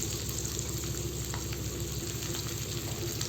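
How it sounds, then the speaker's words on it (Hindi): Capsicum, onion and chicken cooking together in a pan for dry chicken chilli, giving a continuous even sizzle with a low hum beneath it, steady and close throughout, no voices. "शिमला मिर्च मिला देंगे, थोड़ा सा इसे पकने देंगे हम"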